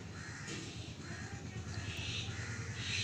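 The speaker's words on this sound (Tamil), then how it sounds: "இப்போ வந்து மறுபடியும் காக்கா கத்திக்கிட்டே இருந்துச்சு" A crow caws repeatedly outdoors, harsh calls coming in short bursts at moderate distance over a steady low background hum, with no voices.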